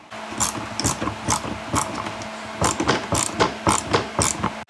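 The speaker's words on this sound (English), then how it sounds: "you can use a wrench or a ratchet to hold that in place while you tighten it down" Ratchet clicking as the small 6mm top bolt of a replacement shock absorber on a Cadillac CTS is tightened, a quick run of close, sharp mechanical ticks in bursts with brief pauses.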